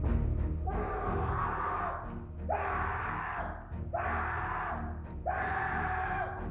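Muffled screaming from a person enclosed inside a rolled gym mat, four long sustained cries with short breaks, dulled and boxy over a steady low rumble.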